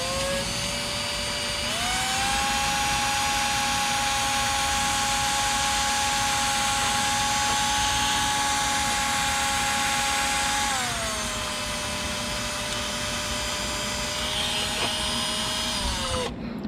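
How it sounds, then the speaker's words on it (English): A cheap cordless drill running in reverse to drill out a broken bolt, one steady whining motor note that rises after a couple of seconds, holds, then drops, loud and close. "I'm going to try to see if I can drill and grip it."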